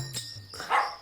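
A dog at night gives a couple of short barks and a yip within about a second, moderately close, with no one speaking.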